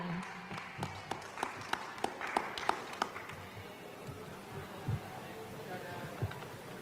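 Scattered audience hand claps at the East Java Heritage Expo 2025, a handful of sharp, sparse claps in the first half that fade into a murmur of voices and crowd noise.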